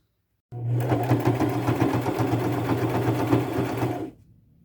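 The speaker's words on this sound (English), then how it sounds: "pin that on, and do maybe a white zigzag stitch around it" A sewing machine runs a white zigzag stitch to sew a patch onto a pair of pants, a steady close mechanical whir that starts abruptly, runs for about three and a half seconds, then stops.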